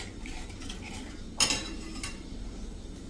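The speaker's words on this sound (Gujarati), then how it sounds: "અને હવે કન્ટિન્યુ આપણે આ રીતે એને હલાવતા જ રહેશું." A spoon stirs green chili halwa in a pan with soft continuous scraping and a faint sizzle, broken by one sharp metallic clink against the pan and a lighter knock shortly after.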